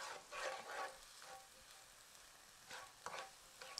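Turmeric and spices stirred in a hot frying pan for scrambled tofu, faint sizzling with soft scraping strokes of a spoon in intermittent bursts.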